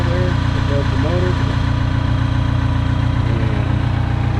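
A New Holland LX565 skid steer engine idles steadily at a loud, constant rumble right after starting, with someone talking over it.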